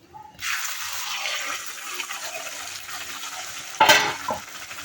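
Kolhapuri masala, turmeric and ground paste hit hot oil in a pan, a steady close sizzle that holds for several seconds, with a sharper louder crackle near the end.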